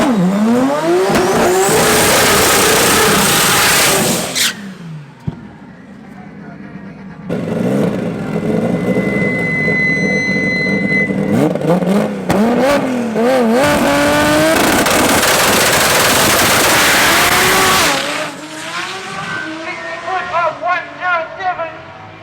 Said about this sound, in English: This is the world's fastest BMW.